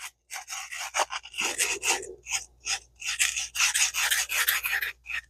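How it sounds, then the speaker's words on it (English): Hand polishing of the metal stems on a 1980 ABU Garcia Ambassadeur 5000 reel with emery cloth: a series of quick, close, raspy rubbing strokes in an uneven rhythm, separated by short pauses. "just take you some emery cloth and polish up those"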